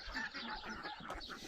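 A hen clucks near a henhouse at an ecolodge south of Marrakech, in a yard shared with ducks; soft, continuous cackling and murmuring calls sit at a moderate distance over outdoor ambience.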